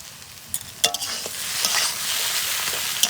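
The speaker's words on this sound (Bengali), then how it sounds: "সিঙ্গারা করার জন্য মশলা কষানো হয়ে গেছে" Spiced singara filling frying in a pan as it is stirred, a steady loud sizzle with scraping spoon clicks and knocks against the pan, close by.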